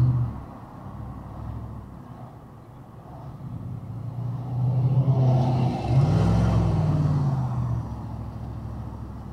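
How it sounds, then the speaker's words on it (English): A 264-horsepower car at a street car show revs its engine, a loud low rumble that swells into two strong pulls midway through, with traffic noise around. "This is a 264 horsepower car right there."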